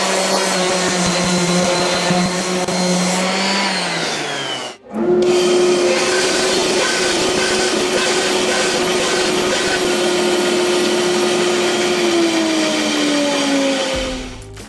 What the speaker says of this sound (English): I'm going to start by removing some of this bark and just cleaning it up a little bit so we can actually see what we're working with. Got some 80 grit sandpaper on there.